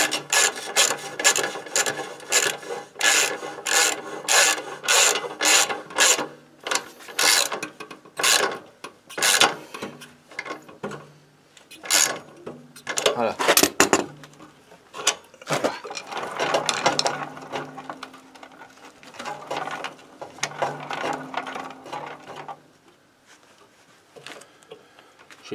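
A motorcycle's new chain and wheel turn, probably spun by hand, with rhythmic rasping, clicking and rubbing in repeating bursts from a chain catching somewhere. The sound is close and loud, fades in the middle, then returns more softly with no talk.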